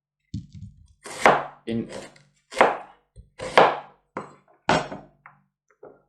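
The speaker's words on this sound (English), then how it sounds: "Basically cut the onions in half, then again half, and then 2 or 3 slices like that" A knife chops onions on a cutting board, with about six separate firm thunks spaced roughly evenly and heard up close, while a voice talks briefly between the cuts.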